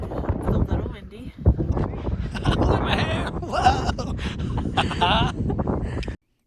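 Strong wind at the summit of Pikes Peak buffeting the microphone in loud, uneven gusts and rumbles, with a person talking over the blustery noise before it cuts off abruptly.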